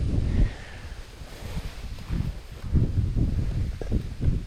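Wind while fishing from a boat on open water, gusting microphone rumble that swells and fades in repeated low buffets, loud and close, with no voices.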